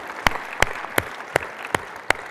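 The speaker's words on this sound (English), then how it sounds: "So please give our panelists a round of applause" Audience applause for panelists closing a space exploration panel: scattered, sparse clapping with distinct individual claps spaced about every third of a second, fairly close and moderately loud, no talking.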